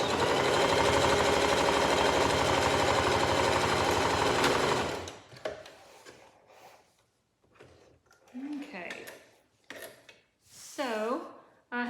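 Sewing machine stitching around a pillow case cover, running loud and steady for about five seconds, then stopping, followed by softer handling noises and brief rustles as the work is finished.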